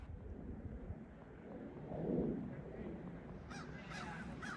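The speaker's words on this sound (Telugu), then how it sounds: "కాకి అరుస్తా ఉంది. ఆడ సౌండ్ వస్తుంది" A crow caws outdoors on a snowy Chicago evening. A few faint caws come near the end over steady wind noise on the microphone.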